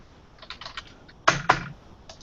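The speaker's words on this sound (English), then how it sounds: "I hear someone banging and banging on the keyboard" Computer keys clack in quick bursts of tapping, with two sharper, heavier strikes in the middle, fairly faint and with no voices.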